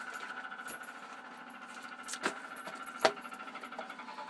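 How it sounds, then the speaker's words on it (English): Faint, distant knocking of drilling or hammering from downstairs, a couple of sharper impacts standing out against a low steady mechanical hum, no voices. "it sounds like hammering to me, even though it's probably drilling"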